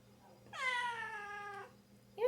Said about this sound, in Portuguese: Minha gatinha que tá miando.